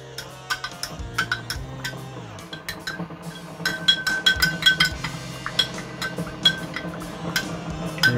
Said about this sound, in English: I just keep mixing until everything looks dissolved and it starts to be clear.